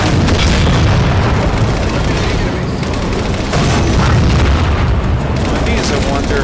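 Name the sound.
Mantis tank firing rounds in Halo 4, video game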